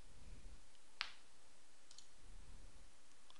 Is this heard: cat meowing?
no